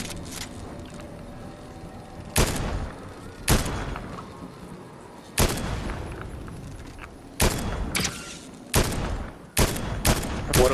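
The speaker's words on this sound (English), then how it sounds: "Gunfire's probably his buddy." Fortnite video game gunfire: sharp, loud single shots and short bursts cracking out at irregular intervals over a quieter background, about eight distinct reports spread across the stretch, with no talking.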